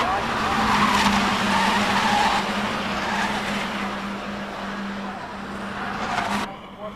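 Race cars in a four-car fight for first place at the 1990 SCCA National Championship: a sustained loud engine drone with squealing, skidding tyres, close and continuous, and a commentator talking over it.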